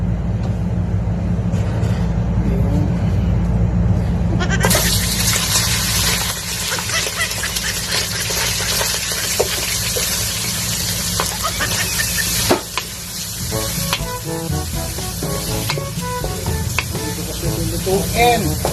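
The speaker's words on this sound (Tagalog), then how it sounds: "igigisa na natin itong karne na may taba-taba." Fatty meat sautéing in a pan for pinakbet: after a few seconds of low, steady rumble, a loud, broad sizzle bursts in and continues close and constant, with occasional stirring scrapes and crackles over the hiss.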